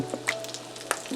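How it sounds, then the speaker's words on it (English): Tuna croquettes fry in a pan over medium heat, giving faint, sparse crackles and small pops above a low steady hum, with no talking. "I'm gonna leave it frying for a few minutes"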